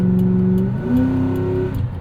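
A 2003 Mercury Marauder V8 sedan engine revs up hard nearby, its raspy growl climbing in pitch before easing off.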